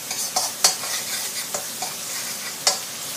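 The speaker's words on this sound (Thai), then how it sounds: "ผัดให้หอมก่อนจ้ะ" Garlic, coriander root and pepper paste stir-frying in a pan, a soft steady sizzle broken by a few sharp scrapes of a spatula against the metal, close and moderately quiet with no voices.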